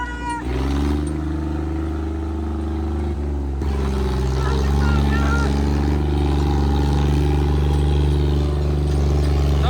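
A vehicle engine drones and strains steadily at high revs while driving through the flooded Beas river, loud and close, with a dense low rumble throughout and voices talking over it.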